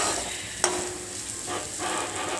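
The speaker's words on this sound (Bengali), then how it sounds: "সব দিয়ে আলুটাকে একটু ভালো করে ভেজে নিচ্ছি।" Potatoes fry in oil with salt and turmeric, giving a steady close sizzle with a sharp clink of a utensil early on and soft stirring scrapes afterward.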